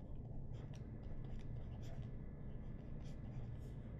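An equation written by hand on a chemistry lesson about Raoult's law: faint, intermittent scratchy pen or marker strokes over a steady low background hum, with no clear speech.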